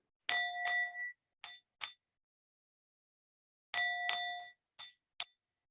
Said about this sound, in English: And as you sit with this beautiful Tibetan bell, this sound resonates within your body.